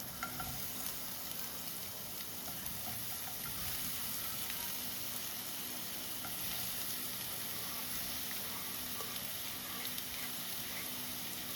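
Onions fry in a pan with a dense, continuous crackling sizzle that stays even and fairly loud from start to finish, with no talking.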